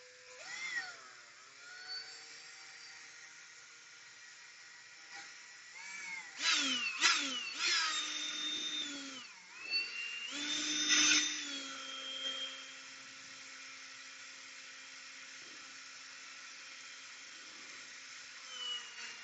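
Handheld drill whirring against a 3D-printed wolf model, quiet steady whine with bursts of louder grinding as the bit bites in, pitch sliding up and down.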